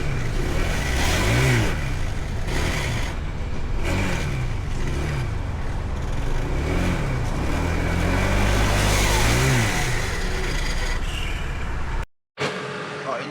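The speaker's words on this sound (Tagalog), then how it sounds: "kahit na nire-rev ko ay hindi na talaga umaandar yung motor" A Honda ADV 160 scooter with a faulty CVT revs repeatedly close up, its engine swelling and falling in rhythmic bursts before cutting out abruptly near the end.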